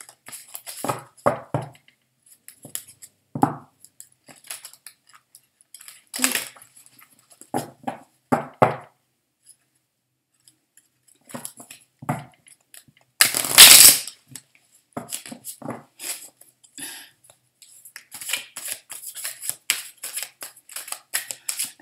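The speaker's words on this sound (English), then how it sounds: "as I shuffled, two cards flew" Intermittent papery shuffling and flicking of tarot cards, with bursts of riffling and a loud rustle midway as two cards fly out, close by with quiet gaps between.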